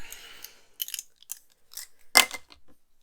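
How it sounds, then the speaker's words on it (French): Scissors snip slightly metallic string while crafting a scrapbook Christmas treat box, giving several short, crisp cuts spaced irregularly, close and clear with no talk. "Je reprends mes ciseaux."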